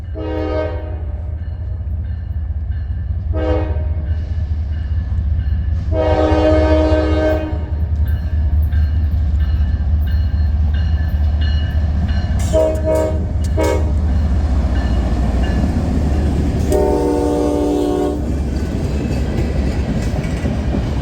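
A train hauls a locomotive to Wabtec in Erie, Pennsylvania for rebuilding, rerouted over the Norfolk Southern Cleveland District; a steady rumble of cars rolls by throughout while several horn blasts sound, the longest near the middle and another later.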